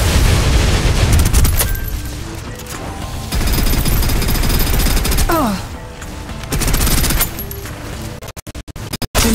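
Sustained bursts of suppressive gunfire from the video game Snowbreak: Containment Zone, dense and loud with rapid automatic fire layered over booming impacts, continuing for several seconds and briefly breaking into sharp staccato shots near the end.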